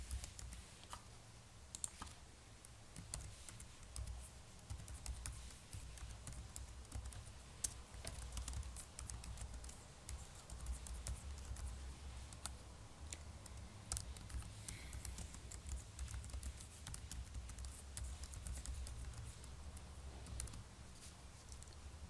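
Steady typing on a computer keyboard, a continuous patter of quiet, close key clicks with no talking.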